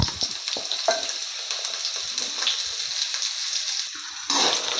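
Potatoes frying in oil with dal, dry chilies and curry leaves give a steady close sizzle, broken by a few sharp stirring scrapes and a louder burst near the end.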